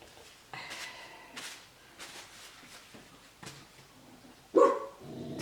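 A dog barks several times in short, spaced bursts, moderately close, with one louder bark near the end and no talking.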